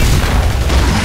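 In Gears of War 3 multiplayer, an incoming-fire explosion hits as a short, loud, dense boom that fills the whole moment at close range.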